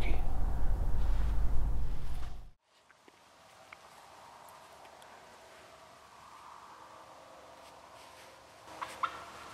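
Wild turkey in Minnesota gobbles a few times while hunters lie in ambush, faint and distant gobbles against a rustling outdoor background after a loud burst of handling noise at the start.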